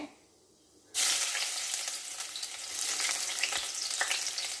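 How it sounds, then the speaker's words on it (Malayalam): Julienned ginger hits a hot pan for a prawn dish, starting a loud, steady sizzle after a second of near silence that crackles on without pause to the end. "ഞാൻ ഇഞ്ചി ഇട്ട് കൊടുക്കാൻ പോകും"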